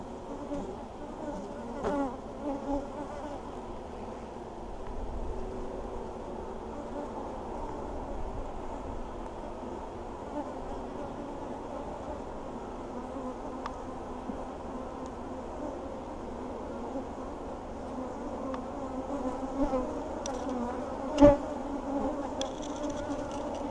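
Honeybees hum in a steady, dense buzz throughout an April hive inspection, with occasional light knocks and one sharp click from handling the frames.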